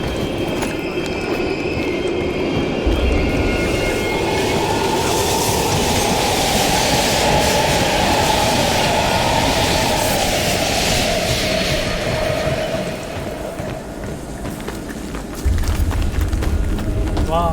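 Train rumbling past on the rails in the Call of Duty: Black Ops Cold War video game, a loud sustained roar with wheel squeal and clatter, steady for most of the stretch then easing off, with talk over it.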